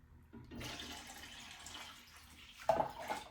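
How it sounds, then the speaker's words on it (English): A quart of water poured into a soup pot for a spiced postpartum soup, a steady splashing gush running for a few seconds with a brighter slosh near the end, close and alone. "we are going to put a quart of water"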